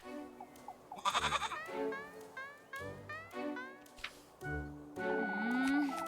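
Goat bleating inside a farming video game, several wavering bleats rising and falling across the few seconds, with other animal calls and soft background music, no speech.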